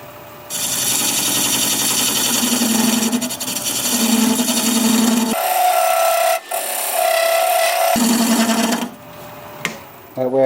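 A skew chisel cuts into a wooden vase spinning on a lathe, giving loud, close scraping and shaving noise over the motor's hum, with brief pauses and changes in tone as the cut shifts.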